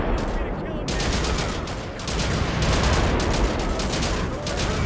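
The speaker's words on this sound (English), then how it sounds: "Are they firing rockets at their own guys?" Sustained barrage of rocket fire and gunfire in the shooter video game Haze, dense and continuous for several seconds, with a voice talking over it.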